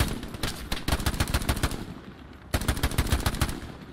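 Rapid automatic gunfire in the World War II shooter game Hell Let Loose, two dense bursts of sharp shots with a short gap between them, loud and close, with no talking.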